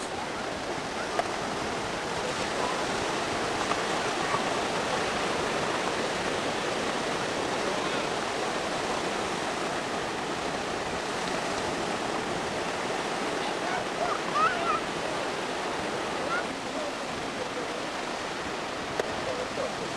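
Steady ocean surf washes continuously on a cool morning at the beach, a dense, even roar of breaking waves lasting the whole stretch without pause, fairly loud and close.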